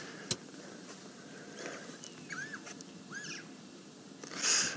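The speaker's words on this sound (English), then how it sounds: "some of you might be hearing a bird in the background" A Burchell's starling calls in the background with a few short, rising and warbling notes against a quiet outdoor hush on safari, faint and some distance away.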